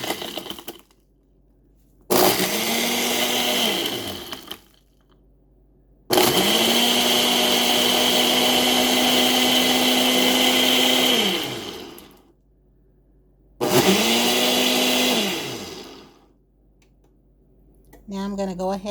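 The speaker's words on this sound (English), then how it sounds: "We're going to put it on the blender." A countertop blender whirs through a green tea frappuccino made with whole milk, running in three separate loud bursts, the middle one longest, with quiet pauses between them.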